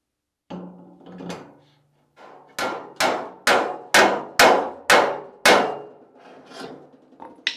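Metal bearing being fitted onto a Citroën Mehari rear axle during a rebuild: a run of about six evenly spaced, sharp hammer blows, close and loud, preceded by softer scraping and knocks, with no talking.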